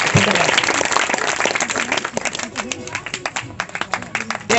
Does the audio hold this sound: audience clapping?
yes